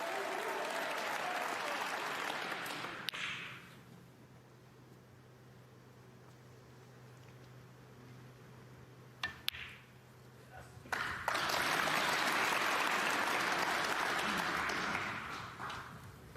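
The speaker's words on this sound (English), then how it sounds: "Listen to the applause." A crowd at a snooker final in the Waterfront arena applauds steadily, then the clapping fades to a hush with a few sharp knocks before a second loud wave of applause swells up and continues.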